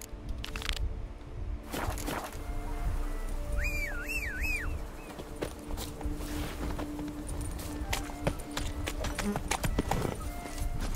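The horse Roach from The Witcher 3 gallops in steady rhythmic hoofbeats over a constant ambient bed, with a short whinny partway through.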